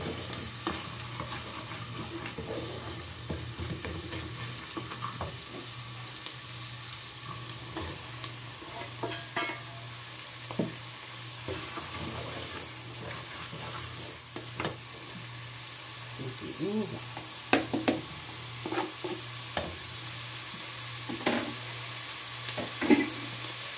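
Garlic cloves sizzle steadily in a pan on the stove while a utensil stirs them, giving a constant frying hiss with scattered light scrapes and taps, close and moderately quiet.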